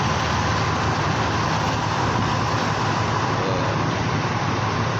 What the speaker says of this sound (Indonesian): Tuh, bis di parkiran Jabal Uhud. Banyak bis yang ini.